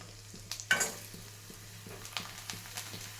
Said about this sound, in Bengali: এই যে দিয়ে দিলাম পাঁপড়গুলো ভেজে নিয়ে